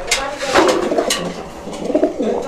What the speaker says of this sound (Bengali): নটটা পরীক্ষা করে দেখাতে পারেন যে নটটা কেমন ডাকে